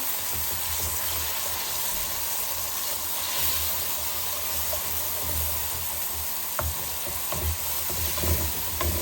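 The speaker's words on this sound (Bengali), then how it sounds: "মশলাটা এখন ভালো মতো কষাবো" Turmeric and chili powder masala fries in a pan with oil, a steady close sizzle and hiss, with occasional scrapes and stirring clicks near the end.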